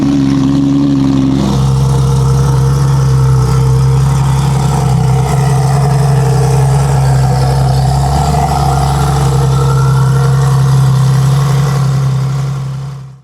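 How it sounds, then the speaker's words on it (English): Cold start of a Porsche 992 GT3 RS fitted with a Soul Performance complete exhaust system, a loud, steady, droning idle that holds evenly after a brief higher note at the start before fading at the end. "the first official cold start on the 992 Porsche GT3RS, featuring the Soul Performance complete exhaust system"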